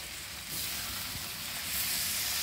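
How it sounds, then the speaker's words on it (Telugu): Chicken liver with pepper, chillies and curry leaves frying in a pan, a steady close hiss of sizzling oil that swells slightly toward the end, with no voices. "ఒక 2-3 మినిట్స్ అండి బాగా ఫ్రై చేస్తూ ఉండాలి"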